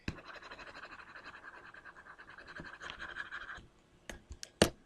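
Part of a graph is wiped off a board in a steady, close rubbing scrape lasting a few seconds, followed by a handful of sharp taps and knocks, with no voices.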